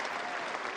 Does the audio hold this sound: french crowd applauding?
yes